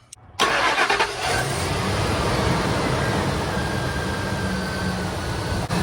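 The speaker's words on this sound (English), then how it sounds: "So let me start this car." A Ford 5.4 V8 engine cranks briefly and catches, then settles into a steady, loud idle rumble close by.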